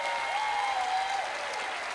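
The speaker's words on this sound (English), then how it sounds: "Audience, applaud the poet." Audience applause for a poet after judges' scores at the Verselandia 2023 slam poetry event, steady dense clapping throughout with a faint whistle-like tone above it and no speech.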